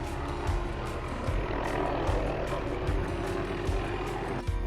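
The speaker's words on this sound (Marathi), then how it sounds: "आपण एवढं उंच आलो की आपल्याला हेलिकॉप्टर पण बघायला भेटतं" A helicopter flies overhead on the Waihee Ridge Trail in Maui, Hawaii, a steady, rumbling rotor drone filling the air throughout, loud and continuous, with wind noise around it.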